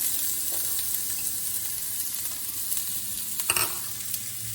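Onion sautés in hot olive oil in a pan, giving a continuous close sizzle with faint stirring and a brief louder crackle near the end.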